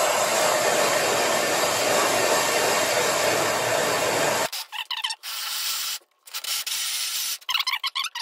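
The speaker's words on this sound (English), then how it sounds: "This is a sharper bit though, or sharper hole saw, but it's still gonna take a little bit of time" A sharp hole saw bores a 1 inch hole while building a custom shaper fence, giving a loud, steady grinding whir for several seconds before stopping into short, choppy bursts.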